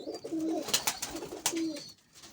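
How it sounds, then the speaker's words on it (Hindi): Pigeons coo nearby in soft, low, rolling phrases, two or three cooing bursts with light rustling between them and no talk over them. "चौड़े पर के कबूतर को मसेल कहते हैं"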